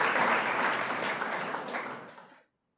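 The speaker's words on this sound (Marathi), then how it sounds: "त्यांच्यासाठी एक टाळी वाजवा जरा." An audience at a felicitation ceremony for students claps in a dense burst of applause that gradually fades before stopping abruptly.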